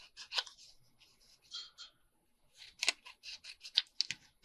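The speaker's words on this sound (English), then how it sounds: "We'll cut the square." Scissors cut a square of paper in a run of quick, close, crisp snips with short pauses in between.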